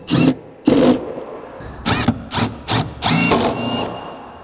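A power drill fitted with a T40 bit drives a seat bolt in an R56 Mini Cooper, running in several short, loud bursts of whirring close by, separated by brief pauses.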